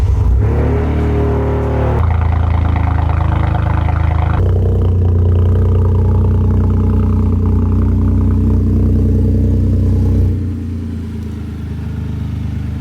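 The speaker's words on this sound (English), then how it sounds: "So let's hear a cold start on the car." A Toyota GR Corolla hatchback engine cold-starts with a loud catch, then holds a high, rough idle that steps down in stages, dropping lower and quieter near the end.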